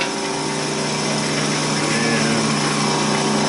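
Wood lathe spinning fast while a drill bores shallowly into a turned wooden baby rattle, a steady high whine with layered tonal hum running continuously and loud throughout.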